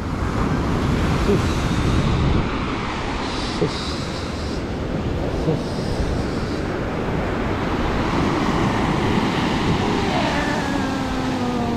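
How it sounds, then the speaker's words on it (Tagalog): Heavy surf roars continuously, large waves crashing and washing close by, with strong wind buffeting the microphone throughout. "Lalaki ng alon. Grabe. Yung alon."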